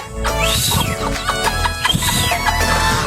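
Farm chickens, geese and ducks cluck and squawk loudly at close range while being called to feed, a busy overlapping chorus of calls with no talk.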